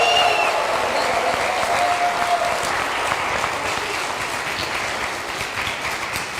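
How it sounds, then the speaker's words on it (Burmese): Wedding guests break into steady applause after a ring exchange and vows, a dense wash of many hands clapping evenly throughout and easing slightly toward the end, with no one speaking over it. "လက်ခုပ်တီးပြီးတော့ကျွန်တော်တို့ဂုဏ်ပြုကြပါအောင်"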